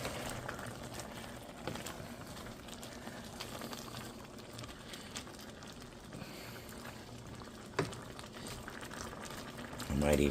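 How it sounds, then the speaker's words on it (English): A pot of curry-flavored turkey simmers steadily, its bubbling a continuous soft burble with a few louder pops and a brief clatter near the end. "Coming to a nice simmer."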